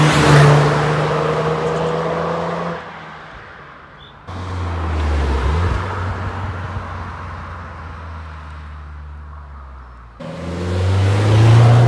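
A Renault Clio RS18 with an Akrapovič exhaust drives hard, its engine rising through the revs in several pulls, with a quieter lift-off and gear-change gaps between them. The exhaust note is loud and close, with no voices.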